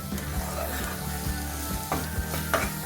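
Carrot halwa roasting in ghee in a pan sizzles steadily and close up, with occasional scrapes and stirs of a metal spoon breaking through the frying crackle.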